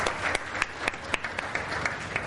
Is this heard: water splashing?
no